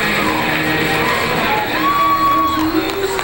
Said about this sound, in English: still enjoying the adulation of the crowd